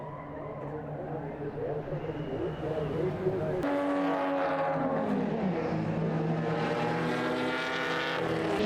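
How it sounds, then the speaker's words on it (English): Race cars in a club circuit event under lights at CARCO.com.au Raceway, engines droning loud and continuous, with a sharp rising roar as cars pass close, all blended with steady crowd and track ambience. "Plenty of bumper-to-bumper action under lights here at carco.com.au Raceway, with Michael Howlett taking the third race"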